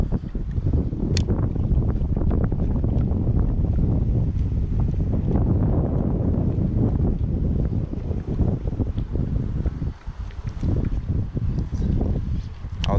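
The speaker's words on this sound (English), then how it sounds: "Wind's blowing into here." Wind gusts at a lakeside fishing spot, a constant heavy low rumble buffeting the microphone throughout with only a brief lull near the end.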